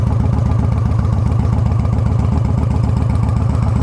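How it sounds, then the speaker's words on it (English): A Victory Highball 1700cc V-twin motorcycle runs with a steady, loud, rhythmic low exhaust pulse, close and alone without talk. "Really nice exhaust. It's quiet on idle when you're cruising, but you give it gas, it's loud."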